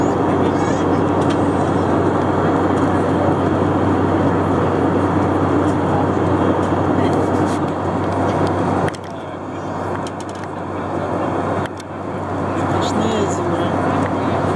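Steady, loud airplane cabin drone during a flight from Texas to Florida, a constant broad roar with a low hum that dips slightly at moments, with a voice speaking over it.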